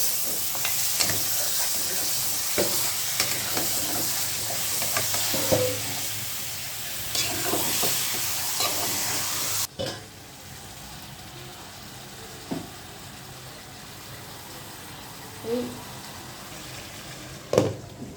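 Beef and spices frying in a pan, with steady sizzling and repeated scraping stirs, loud at first and then quieter after a sharp drop midway, with occasional clinks.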